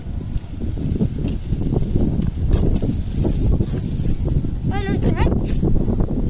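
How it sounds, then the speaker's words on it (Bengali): Strong wind blows outdoors, buffeting the microphone with a loud, continuous low rumble that surges and eases across the whole stretch, while voices talk faintly underneath. "দেখছেন কত বাতাস উড়াই নিয়ে যেতেছে"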